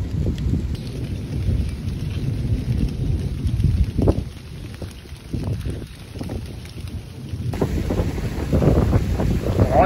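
Heavy stormy rain with strong gusting wind, a dense steady hiss of downpour with rumbling wind buffeting the microphone, loud and continuous throughout.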